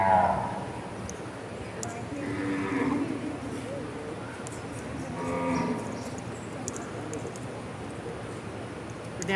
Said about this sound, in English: We're catching up with the cows.